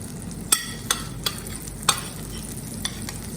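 Maida flour stirred quickly in a pan for mac and cheese, with a soft frying hiss under sharp, irregular spoon scrapes and clicks against the pan, several distinct strokes over a few seconds, no voices.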